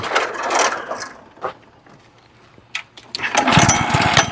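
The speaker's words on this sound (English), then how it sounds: "I'm gonna go ahead and get this mow on and get this done" Lawn mower cutting grass during fall prep of the lawn, with a loud engine roar at the start, a quieter stretch with faint bumps, then a strong resumed engine drone to the end.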